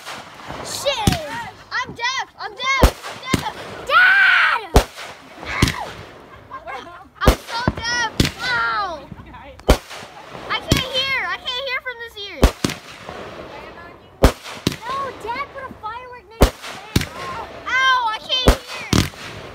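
Fireworks burst in a steady series of sharp, loud explosions with crackling trails between them, while onlookers exclaim and talk over the show.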